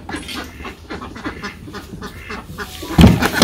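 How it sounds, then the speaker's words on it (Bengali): Ducks let out of their coop in a village morning, a run of quick quacks and honking calls close by, growing busier and louder toward the end. "হাঁস ছাড়ি দিতেছে"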